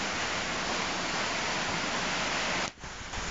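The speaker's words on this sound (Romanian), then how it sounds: "Apa se acumulează aici și printr-un râvuleț merge de vale." A winter waterfall stream near Saharna Monastery, Rezina, rushes steadily as a dense broadband hiss, close and constant, with a momentary dip near the end.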